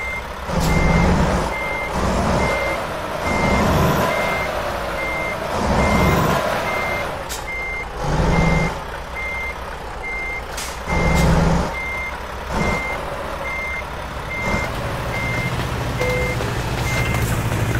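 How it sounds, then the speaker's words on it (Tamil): A truck backing up in American Truck Simulator, Idaho DLC, sends out steady, evenly spaced reversing beeps over a low diesel engine rumble, with a few louder hisses and thumps along the way and no talk. "இப்போ நம்ம ரிவர்ஸ் எடுத்து வண்டி ட்ரெய்லர் அட்டாச் பண்ணிடலாம்"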